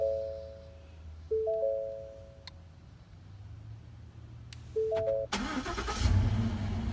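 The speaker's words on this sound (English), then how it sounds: "And your truck should remote start." A Ford F-150 pickup truck is remote started. Beeps and clicks come first, then the engine cranks and catches with a rising, close idle rumble. No one speaks.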